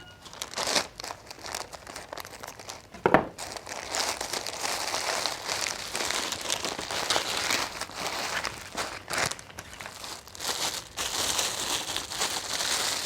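Plastic packaging around artificial flowers being handled and cut with scissors, a near, continuous crinkling and crackling with a few sharper snips and rustles, no talk.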